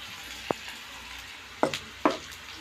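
Turmeric powder and salt frying with spices in a pan, a steady low sizzle running throughout, punctuated by three sharp clinks of a utensil against the pan, with no voices.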